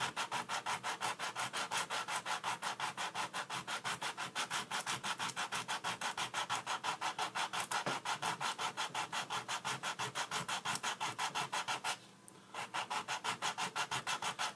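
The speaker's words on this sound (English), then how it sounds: "we'll go ahead and sand this flush, and I like to use 100 grit, 150 grit sandpaper" Sandpaper of 100 to 150 grit rubs steadily back and forth over a hardened epoxy stick corner repair, sanding it flush. The close, rhythmic strokes continue without a break except for one brief pause near the end.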